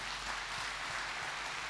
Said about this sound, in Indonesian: Bisa beri tepuk tangan bagi Tuhan?